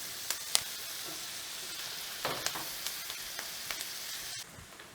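Yellow squash sautéing with garlic and thyme in a pan gives a steady, close sizzle, with a few brief stirring scrapes and clicks over the frying hiss.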